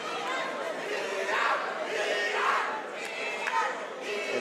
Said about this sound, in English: And the crowd chants for Ian.